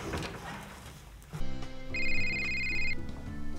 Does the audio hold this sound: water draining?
no